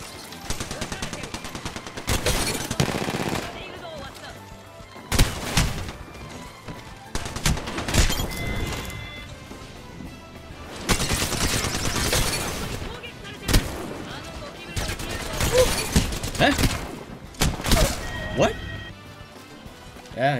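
Bursts of rapid video game gunfire, automatic weapons rattling in long volleys with short gaps, loud and close, with voices talking over parts of it.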